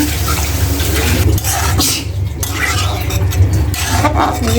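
Water pours steadily into a cooking pot of spiced vegetables, a continuous close splashing and rushing under a voice.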